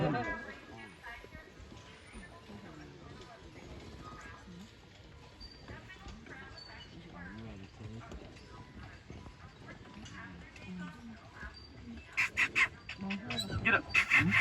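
Carriage horses pull a tour wagon on Mackinac Island, their hooves clip-clopping in a steady walking rhythm that grows louder and sharper near the end, under a guide talking over busy outdoor ambience.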